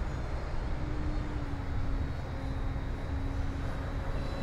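An E-flite T-28 Trojan RC model plane flies with its gear and takeoff flaps down, giving a steady, fairly faint electric motor drone with a thin whine held level throughout, over broadband wind-like noise.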